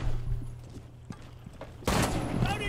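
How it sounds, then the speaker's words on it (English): A shotgun blasts in a first-person shooter video game, one loud boom near the end after quieter background game noise and faint thuds, with a voice talking lightly underneath. "Dude, the shotgun is great."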